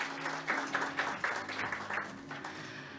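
Audience applause at the opening of an international conference on labour and employment: steady, moderately distant clapping from a large crowd, continuing evenly throughout.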